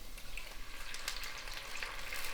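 Tomato frying in a pan for a calamari linguine sauce gives a steady soft sizzle with light crackles, close and even throughout, with no voices.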